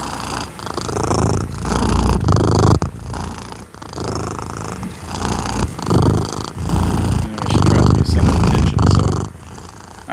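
A pet cat purring loudly and close up, a rough rumbling purr in long repeated breaths with brief pauses between them, steady and continuous.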